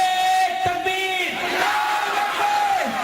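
A crowd at a religious conference responds to a call of the Nara-e-Takbir slogan, a loud collective shout with a sustained voiced cry that carries and repeats across a large gathering.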